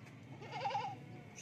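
Goats, including young kids, bleat while being loaded onto a vehicle at a goat farm, a single wavering cry rising in the middle against faint background noise.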